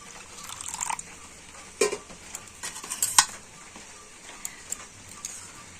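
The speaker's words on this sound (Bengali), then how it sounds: "দেখুন জলের সাথে জেলোটিন পাউডারটা কিন্তু খুব ভালো করে আমি গুলে নিয়েছি" Gelatin powder being stirred into a little water in a small container, a spoon scraping and clinking in irregular bursts with a couple of sharper knocks, close and fairly quiet, no talk.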